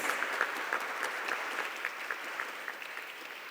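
Audience applause at a public speaking competition final in Mauritius, a steady dense clapping from a full hall that holds at even loudness throughout, with no voices over it.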